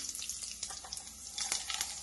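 Chana dal and urad dal tempering in hot oil in a kadai, with a faint, steady sizzle and scattered crackling pops, close but quiet.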